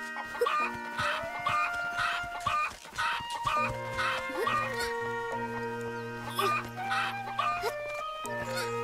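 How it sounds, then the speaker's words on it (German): A chicken in the video game Zelda: Echoes of Wisdom clucks repeatedly in short rhythmic bursts over bright game music, loud and close. "hier ist ein Huhn"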